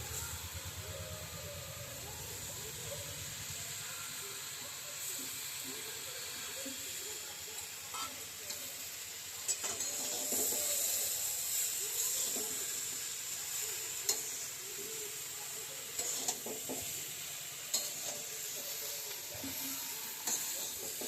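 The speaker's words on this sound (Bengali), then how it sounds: "এবার ডালটা দিয়ে নাড়াচাড়া করলাম" Masoor dal (red lentils) is stirred in a pan of hot oil, giving a continuous close hiss and sizzle with soft scraping strokes and occasional clinks, steady throughout.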